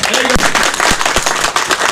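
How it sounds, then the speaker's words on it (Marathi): Loud applause from an audience at a Ganesh festival gathering, dense clapping filling the whole stretch with a few sharp louder claps standing out. "जोरदार टाळ्या"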